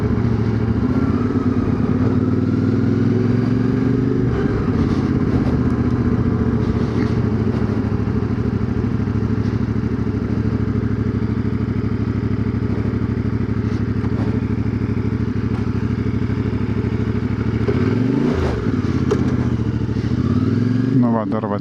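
CFMOTO 450MT motorcycle engine droning steadily while riding, with revs rising and falling through gear shifts, loud and continuous with wind rumble throughout.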